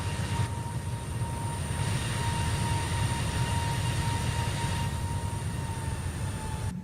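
Steady, continuous jet engine roar of an airliner climbing out of Luton Airport in a flight simulator game, a constant loud drone with a sustained high whine and no voices.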